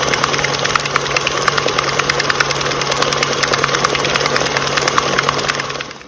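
An electric stand mixer with a paddle attachment runs at medium speed through sugar-free keto cheesecake batter, a loud continuous motor whir with rhythmic ticking pulses, close and steady, then fading as it stops at the end.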